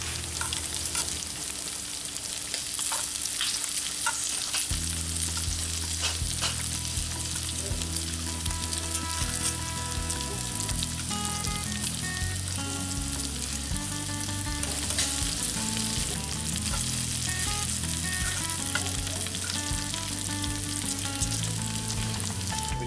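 Shrimp fry in a pan with butter and olive oil for shrimp and grits, giving a steady, close hiss of sizzling throughout, with occasional stirring and tonal background music running underneath.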